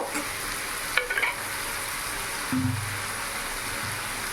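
Tomato being stirred into sizzling chicken masala in a pan for a Bengali chicken kosha, a steady fry with a few scraping stir strokes and a splash of added water near the middle.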